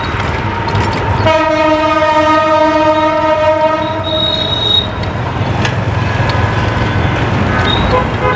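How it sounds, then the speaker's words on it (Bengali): The Mohanganj Express train rumbles past close by, sounding a long, loud horn blast over the steady roar and clatter of the wheels. "ওই যে ট্রেন চলে যাচ্ছে দেখছেন"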